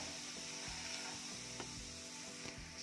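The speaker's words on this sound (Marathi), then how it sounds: "यामध्ये आपण रवा घालूयात आणि रवा छान परतून घ्यायचा आहे" Semolina being roasted in hot melted Dalda for rava ladoo, giving a soft, steady sizzle with occasional light scrapes of the stirring spoon, faint and close.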